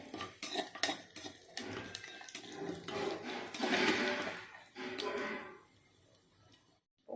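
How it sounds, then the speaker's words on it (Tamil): Tempering spices dropped into hot oil in a pan for keerai kootu: metal spoon clinks and pan clatter, then a crackling sizzle that swells midway and fades to quiet near the end. "ஆயில் நல்லா காஞ்சதுக்கப்புறம் தாளிக்க தேவையான இதெல்லாம் இதில் போட்டுக்கலாம்."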